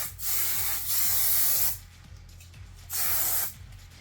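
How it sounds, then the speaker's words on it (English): Three hissing bursts from an aerosol hairspray can, each lasting about a second, close by with quiet pauses between. "I'm gonna spray it."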